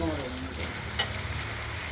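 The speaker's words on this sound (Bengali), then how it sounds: "চাল কুমড়োর চাকগুলোকে একটু উল্টে উল্টে দিচ্ছি" Stuffed ash gourd slices filled with poppy seed and cottage cheese fry in oil in a wok, giving a continuous close, even sizzle with a brief stirring clink partway through.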